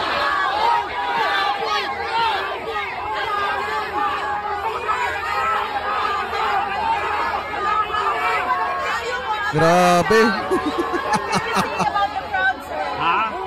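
A dense crowd chatters all around, many voices overlapping, with a short spoken remark and a burst of shouting near the end.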